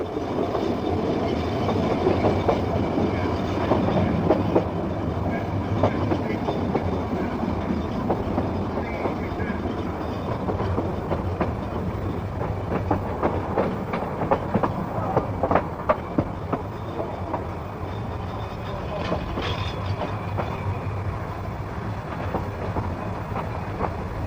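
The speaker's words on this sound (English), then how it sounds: "the first train of the day arrives at Ffestiniog" A narrow gauge steam train rumbles in close by at Ffestiniog station, with heavy low rumbling, clattering wheels and occasional squeals as it rolls slowly in.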